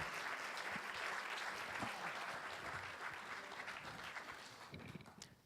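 A crowd at a community event in Šmarje pri Jelšah applauds the town mayor, with steady, fairly quiet, continuous clapping that thins out toward the end.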